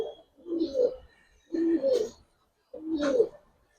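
A pair of Giribaj pigeons coo in three evenly spaced, throaty bursts separated by short silences, close and fairly quiet, with no talking.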